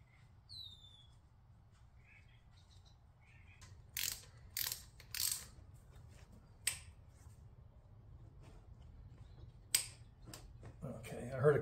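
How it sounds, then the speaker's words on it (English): A torque wrench ratcheting while a drain nut is tightened on a KTM 390 Adventure motorcycle, a quiet room with several sharp close clicks in short clusters and a low background hum. "So now I can put the nut back on and get my torque wrench."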